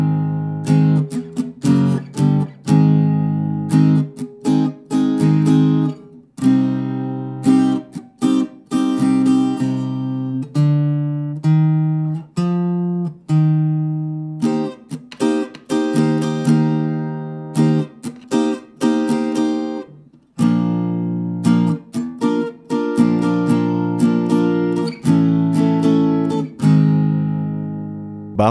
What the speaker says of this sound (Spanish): Voy a repetir nuevamente los rasgueos lento.